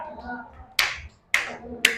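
Three sharp, separate hand claps spaced about half a second apart in a classroom clapping game led by a student teacher, close and clear over a quiet background with faint voices.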